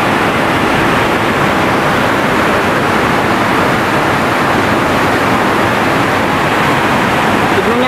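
A swollen mountain river rushes past during monsoon rain on Mount Maranat, filling the air with loud, steady broadband roar that never lets up, close by with no clear talk above it.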